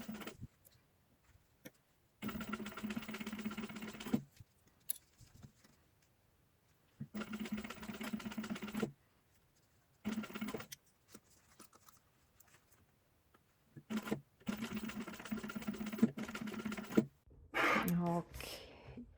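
Bursts of a sewing machine's rapid motor whir stitch a zipper pouch, running in several separate runs of a second or two between quiet pauses.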